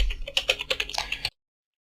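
Fast typing on a computer keyboard while writing a simple HTML file, a close run of crisp key clicks lasting just over a second before cutting to silence.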